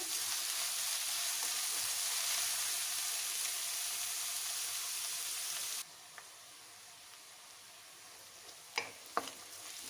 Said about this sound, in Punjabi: ਪਿਆਜ਼ ਨੂੰ ਹੁਣ 2 ਮਿੰਟ ਲਈ ਪਕਾ ਲਾਂਗੇ ਜਦ ਤੱਕ ਇਹਦਾ ਥੋੜਾ ਰੰਗ ਬਦਲ ਨਹੀਂ ਜਾਂਦਾ